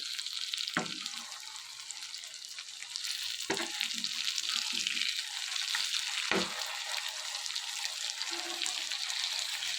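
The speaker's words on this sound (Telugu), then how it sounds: "ఇలా ఆయిల్ వేసుకుని ఇవన్నీ కూడా రెండు పక్కన ఫ్రై చేసుకోవాలి" Fish fries in oil with a steady bright sizzle throughout, interrupted by three sharp knocks of a utensil against the pan, spaced a few seconds apart.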